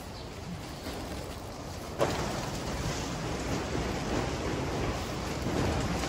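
Strong desert wind blowing across a farm in Kuwait, a steady, loud, broadband rush that never lets up and gusts harder partway through, with no voices.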